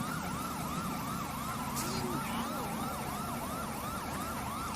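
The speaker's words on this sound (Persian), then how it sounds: "چقدر این آژیراشون روشن و سر و صداشون نمیرن" A police siren in GTA 5 wails continuously in a steady repeating rise-and-fall cycle, loud and sustained over a low engine rumble.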